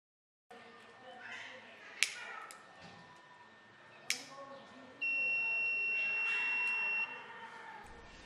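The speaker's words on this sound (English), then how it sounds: "each time when the temperature exceeds the set value, the buzzer is automatically turned on" A temperature alarm buzzer on an Arduino LoRa sensor project with an MLX90614 infrared sensor sounds a steady, loud electronic tone for about two seconds, after a couple of sharp clicks over faint room noise.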